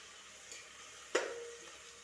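Tomato dropped into a pan of onions and ginger frying in oil, a quiet sizzle broken by one sharp clink and hiss as it goes in, then fading.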